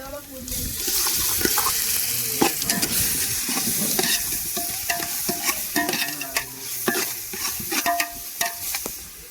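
Ginger garlic paste fries and is stirred in a pan for a Tamil kari kootu kuzhambu: a steady close sizzle with a spoon scraping and clinking at intervals.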